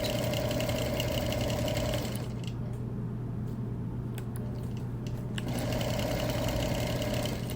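A sewing machine hums steadily as it quilts a wool wall quilt, its motor running continuously with a short easing of the stitching sound in the middle before it picks back up, heard alone at close range.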